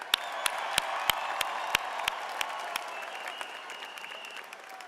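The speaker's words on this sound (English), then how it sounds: "a round of applause for our graduating class." A crowd applauds and cheers at a New York City police academy graduation ceremony, sustained dense clapping in a large hall with sharp camera-flash-like clicks punctuating it, slowly easing toward the end.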